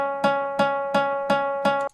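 A looped sample from a sample pack: five identical tonal hits repeat at an even pace, each a sharp bright onset with a sustained pitched ring that decays before the next, close and clean with no voices.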